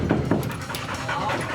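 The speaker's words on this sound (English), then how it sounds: "I hear breathing. I think I hear breathing." A Labrador guide dog pants and breathes heavily nearby, a steady run of quick breaths with faint room noise around it.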